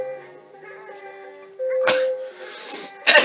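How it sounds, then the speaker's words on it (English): A person sneezes during a session of Super Mario Advance 3: Yoshi's Island, a loud burst near the end after game music and a brief sharp noise around the middle. "The sneeze distracted me."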